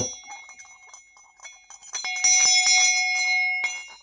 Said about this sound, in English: Got this nice brass bell.